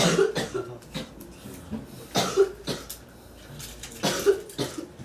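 Several short coughs in a row, dry and fairly close, spaced out over a few seconds with faint background noise between them.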